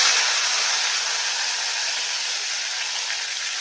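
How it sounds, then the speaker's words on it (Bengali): Prawns frying in a wok give off a steady, loud hiss that holds evenly from start to finish, with no talking. "আমি ওই কড়াই চিংড়িগুলো ভেজে নিচ্ছি"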